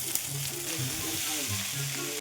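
Food fries and sizzles steadily in a pan in a home kitchen, a continuous close crackling hiss with faint stirring and clatter, no voices.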